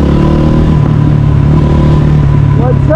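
An enduro motorcycle engine runs on a test ride after an oil change, with a loud, close, steady engine drone and rumble while people talk over it.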